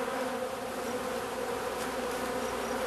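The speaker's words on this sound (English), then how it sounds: "You know, Tony, bees lead a very busy life" Honeybees buzz in a steady, close drone, a continuous hum of wings with no other sound over it.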